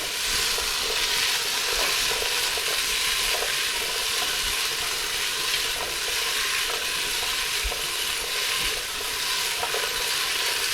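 Ingredients for chicken katsu curry are sautéed in a pan. A dense, even sizzle and hiss runs throughout, with faint occasional stirring ticks and no voices.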